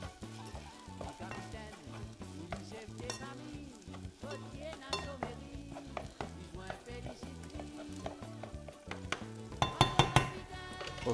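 Small onions fry in a pan with a steady, close sizzle that is stirred now and then. Clinks of a utensil against the pan grow louder toward the end.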